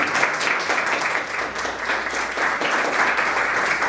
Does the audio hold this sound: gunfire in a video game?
no